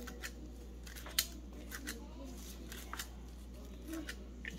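Harvested garden herbs cut with scissors, a few quiet snips over a constant low hum, with faint rustling of the stems.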